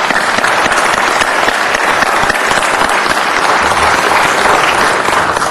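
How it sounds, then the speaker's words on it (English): Sustained, dense applause from a council meeting audience in Los Angeles, loud and steady throughout without a break, a broad wash of many hands clapping at once. "I think that deserves a round of applause."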